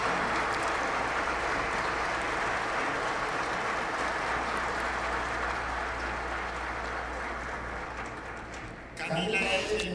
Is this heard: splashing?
no